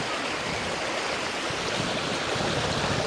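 River water rushing around a car stuck in the Malan river, a steady, fairly close broadband roar with no talk over it.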